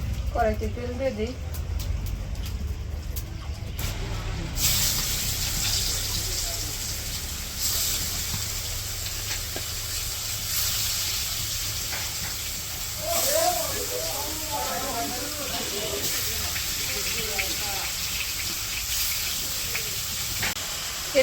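Fish frying in oil in a wok produces a steady, loud hiss and sizzle that runs throughout, with a voice speaking over it at times.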